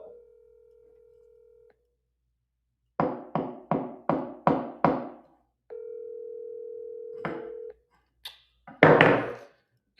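A telephone call rings out on the line as two long, steady tones about four seconds apart. Several loud knocking thumps fill the gap between them, and more knocks follow the second tone.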